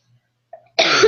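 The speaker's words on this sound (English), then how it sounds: "Sorry, you guys had to listen to 10 minutes of coughing." A single sharp cough bursts out after a brief faint throat sound, close and loud, alone without talk.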